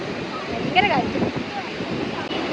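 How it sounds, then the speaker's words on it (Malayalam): Strong wind at a beach blows in a steady, loud roar and buffets the microphone throughout, with a voice briefly audible over it. "ഭയങ്കര കാറ്റ്"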